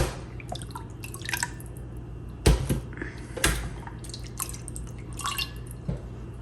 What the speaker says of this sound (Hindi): अब मैं इसको जो है छलनी में निकाल दूंगी।